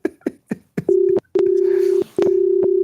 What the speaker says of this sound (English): Somebody tag Peter and tell Peter I'm calling him